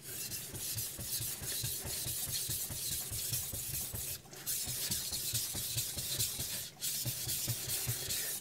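A knife blade is stroked back and forth on the 3000 grit side of a Chinese whetstone, a close, quiet rhythmic scraping hiss repeating steadily with two brief pauses.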